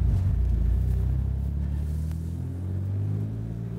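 1940s car driving with a smooth clutch, a deep low engine rumble that dips and then steadies into a droning hum, close and continuous with no talk.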